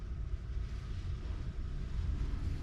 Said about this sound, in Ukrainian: Але вітер такий, що прям фуру зносить